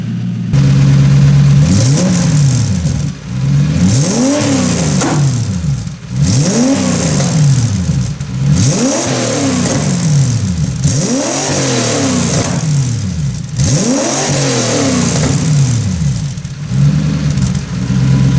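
A Toyota 1UZ V8 fitted with a turbo in a Nissan 200SX, cold and needing warm-up, revving repeatedly in a garage: loud rhythmic rises and falls of engine note, about six blips in steady succession, with no talking.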